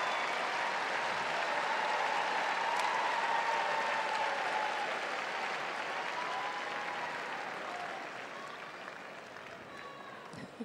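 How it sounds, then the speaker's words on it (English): A crowd at the Westminster dog show, cheering and yelling out dog breed names during Sporting Group judging, heard as a dense, sustained roar of applause and shouts that slowly eases. "The crowd starts to yell out breed names, their favorites."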